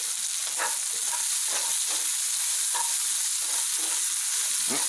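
Mushrooms sizzle and fry steadily in a hot pan for a pot roast, a dense continuous hiss with occasional stirring scrapes and pops, close and alone without talk.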